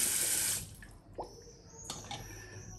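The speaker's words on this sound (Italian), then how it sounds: "Quindi acqua fredda," Cold water pours from a tap as a steady broadband rush, loudest for the first half second and then dropping to a softer trickle with a few splashes and drips.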